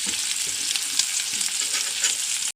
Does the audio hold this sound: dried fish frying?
yes